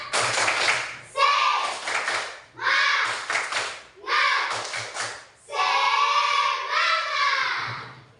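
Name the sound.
class doing rhythmic encouragement clap (tepuk semangat)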